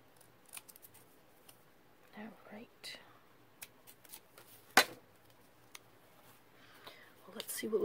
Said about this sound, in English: your scissors cut better when you don't have junk stuck to the blades